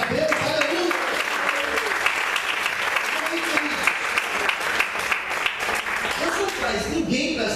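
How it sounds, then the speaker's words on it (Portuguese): A church congregation claps steadily for several seconds in a dense wave of applause, with a few voices rising through it. "Você pode aplaudir e glorificar a Deus."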